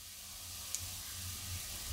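Ginger and green chillies sizzle in hot oil with a soft, steady frying hiss, faint and close throughout, with a tiny click near the start.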